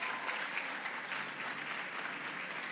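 Steady applause from an audience at a talk on shared stewardship of the planet, a dense continuous patter of many hands that stays even and moderately distant throughout.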